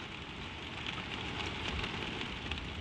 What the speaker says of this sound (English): The rain finds the low places on the slates and runs there, and you can hear it move